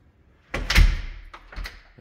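A brand-new front door on a house opens, giving a sudden thump and rattle of the latch followed by a second softer knock and creak about a second later, close and fairly loud with no talking.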